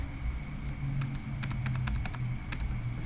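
Keys tap on a computer keyboard in short irregular bursts as text is deleted, close and fairly quiet over a low background hum.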